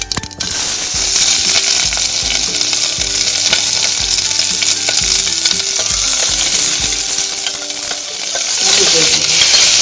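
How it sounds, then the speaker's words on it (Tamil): Onions frying in a pressure cooker for a white kurma, with mustard seeds already popped in the oil: a loud, steady sizzle that starts abruptly and keeps going, with stirring scrapes and clinks running through it. No talking. "இப்போ வெங்காயம் போடுறோம்."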